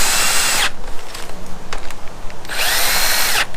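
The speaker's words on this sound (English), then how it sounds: "I'm not tightening them down with the drill" A cordless drill runs engine head bolts down on a Suzuki GS850 in two short, loud whirring bursts separated by a pause, close up and with no talk.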